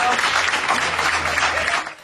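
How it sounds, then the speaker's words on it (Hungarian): A crowd gives dense, steady applause at Liszt Ferenc airport to welcome home a Baptist charity rescue team, continuing for about two seconds before tapering off. "Vas Taps fogadta a baptista szeretetszolgálat munkatársait vasárnap reggel"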